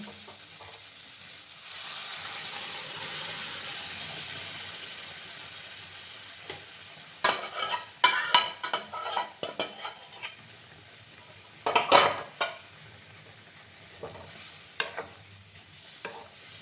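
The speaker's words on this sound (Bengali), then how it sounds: "দেখো মশলাটা কষে গেছে, এবার আমি ডালটা দিয়ে দেবো।" Spoon scrapes and clatters in a pan as dal is stirred into fried spices, a soft sizzle running underneath while bursts of metal-on-pan stirring come and go in uneven clusters, fairly close.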